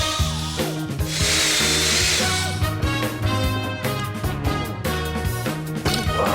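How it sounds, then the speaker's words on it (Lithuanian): Screws being backed out of an old, damaged wooden chair with a power driver, in loud close bursts of whirring with pauses between, against a steady tonal background. "Aš pradedu išsisukinėti varžtus."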